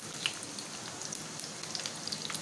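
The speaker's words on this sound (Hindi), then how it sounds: "इस तरह से ये देखिए स्लो आंच पे फ्राई हो रही हैं" Potato and chicken tikki frying in a pan over low heat, a soft continuous sizzle with scattered tiny pops and crackles, close but gentle, with no voices.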